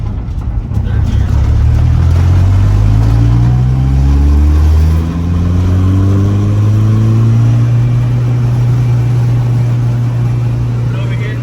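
A turbocharged Honda F20B engine fitted with a GTX3582R turbo pulls hard in third gear, its loud droning note rising steadily in pitch through the run, heard from inside the car.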